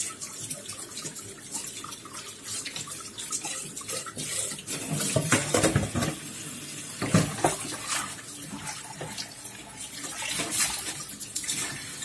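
Water runs steadily from a tap into a sink, with splashing and occasional clinks of dishes being handled close by.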